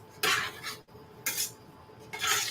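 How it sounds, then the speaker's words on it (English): A spoon stirs pasta with red pepper flakes in a pan, making three separate scraping, rustling strokes with short pauses between them. The strokes are close and moderately soft, with no talking. "And to stir this up, I'm going to add a little red pepper flake to it."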